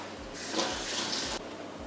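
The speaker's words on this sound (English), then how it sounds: "I'm going to rinse my hands off." Tap water runs into a sink as hands are rinsed in a home kitchen while fish is being prepared, a steady broadband hiss that starts partway in, holds for about a second, then cuts off sharply, with a faint low hum underneath.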